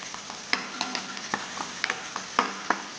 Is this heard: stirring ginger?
yes